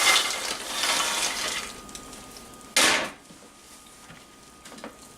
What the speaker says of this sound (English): once it's turned that caramel color, we are just going to plop the nuts right in.